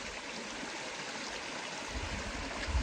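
River stream flowing steadily nearby on a hike toward a waterfall, a continuous broadband rush of water with a slightly heavier low churn toward the end, with no voices.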